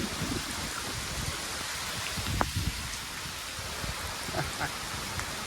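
Heavy monsoon rain falls steadily outdoors in Gujarat, a thick unbroken wash of drops with a few sharper splashes near the middle, close and loud, with no voices.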